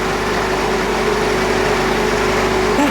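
A multi-cylinder petrol engine on a test bench, held at 3000 RPM under a 15.2 kg load, gives a loud, steady, dense drone with a constant hum throughout and nobody speaking.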